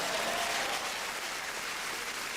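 An audience at a live standup comedy show breaks into applause, a dense, steady burst of clapping that fills the room at close range, with no talking over it.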